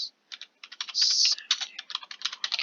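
A name is typed on a computer keyboard, a quick close run of crisp key clicks with one longer held press near the middle, alone and without talk.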